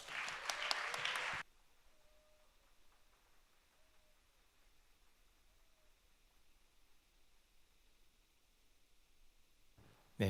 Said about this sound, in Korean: 우리 따뜻한 박수로 우리 목사님 환영해 주시면 감사하겠습니다.